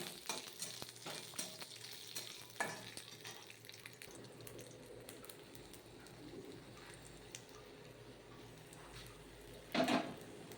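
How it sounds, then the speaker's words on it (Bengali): Khatkol leaves tipped into a hot pan with garlic, giving a quiet, steady frying hiss with a few soft stirring scrapes and a brief clatter near the end. "এই যে আমি পাতাগুলো ঢেলে দিচ্ছি"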